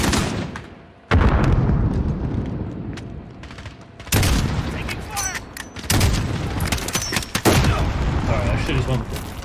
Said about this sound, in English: come on, the bomb got me.